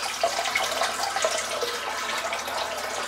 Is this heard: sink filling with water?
yes